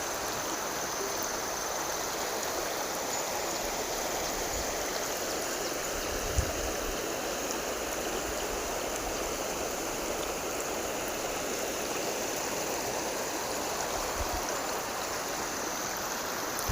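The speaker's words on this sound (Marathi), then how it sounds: "हे खूप चांगलं पाणी आहे आणि जास्त प्रमाणात पाणी आहे." A flowing freshwater stream rushes steadily and continuously close by, its broad, even wash of water filling the whole stretch with no voices over it.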